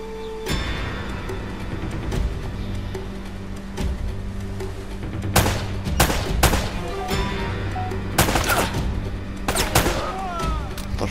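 Scattered gunshots ring out in Uncharted: Drake's Fortune Remastered, sharp reports spaced irregularly over a steady din of combat noise, several of them close and loud.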